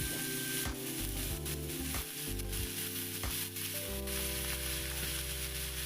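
Sliced cabbage sautés in a pan for ginisang repolyo, giving a steady close hiss under a constant background hum with sustained tones, fairly quiet and without any talking.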